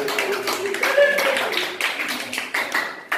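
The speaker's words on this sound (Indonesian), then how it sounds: "Tepuk tangan dong." A small group claps during an ice-breaking number game, giving a loose, uneven patter of hands that thins out toward the end, with some voices mixed in.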